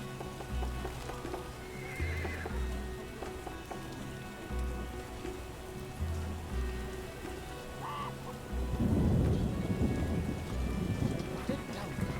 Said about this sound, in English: Dead downpour.